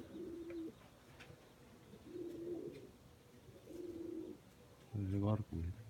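A pigeon on a nest at night coos in three low, even phrases spaced a couple of seconds apart, followed by a louder, closer burst of cooing at the end.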